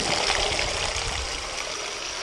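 Water trickles and gurgles steadily in a creek, a close, continuous babbling flow with no voices.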